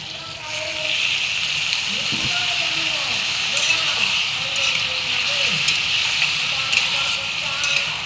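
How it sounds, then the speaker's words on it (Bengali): Paneer curry with fried spices sizzles and hisses steadily in a pan as water is added, a continuous bright frying hiss throughout. "আমি মশলা দিয়ে কষিয়ে নিয়েছি এখন আমি জল দিয়ে দিব"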